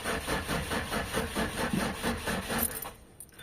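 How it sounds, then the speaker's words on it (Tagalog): Mitsubishi Adventure engine on a weak battery, cranking in an even labored chug that churns steadily for about three seconds without catching, close and loud, then cuts off into quiet. "So ngayon mag-i-start tayo ng engine mga bossing"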